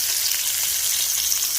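Steelhead trout fillets sear in a hot frying pan, a dense, even sizzle of spattering oil running loud and unbroken with no voices.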